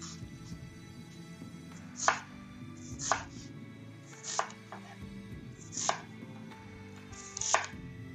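Knife chopping onions on a board, with five distinct, evenly spaced chops landing about a second apart over a quiet kitchen background.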